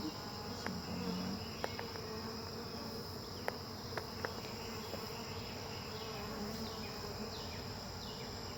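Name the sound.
honey bees flying around hive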